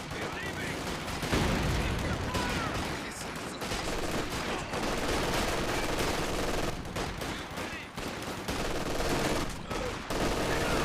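Machine gun fire and a chaotic battle in the WWII strategy game Company of Heroes 2, with rattling bursts, gunshots and explosions overlapping continuously at high volume.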